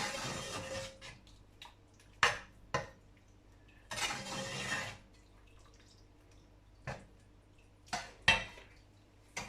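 A creamy oven dish being mixed with fresh parsley: a spoon scrapes and clinks against the dish in irregular bursts, with several sharp taps and some short wet stirring sounds, close and fairly quiet.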